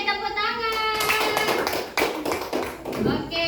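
A class of children claps hands together in a classroom, loud and close, with rapid irregular clapping and some voices mixed in.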